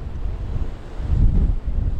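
Gale-force wind gusts in Monaco harbour roar and buffet the microphone aboard a boat, swelling louder midway through with a low, rumbling rush.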